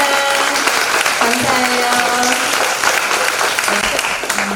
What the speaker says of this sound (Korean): 다시 한번 격려와 축복의 박수를 마음을 다해서